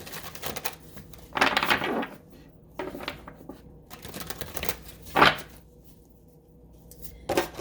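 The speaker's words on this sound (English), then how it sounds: "just a couple more shuffles here" Tarot and oracle cards being shuffled by hand in a few bursts of riffling and shuffling, with quiet pauses between them and no talking.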